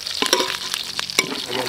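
Pork for sticky-glazed malagkit na baboy fries in oil while a spatula stirs it, with a brief burst of close, loud scraping strokes over a bright sizzle.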